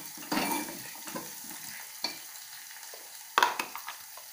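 Moong dal being stirred and fried in a pan, with soft sizzling and scraping stir strokes, a couple of louder clatters near the start and toward the end, close by and with no talking.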